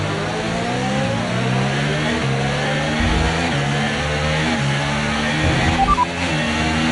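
Formula 1 car in the F1 24 video game revving at the race start, a loud sustained engine note with shifting pitch steps and rising revs, no voices.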